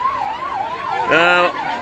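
An ambulance siren wails at a road accident scene on the Ferozepur–Fazilka road in Punjab, a steady rising and falling tone with a brief louder horn-like blast partway through, heard alongside a voice speaking.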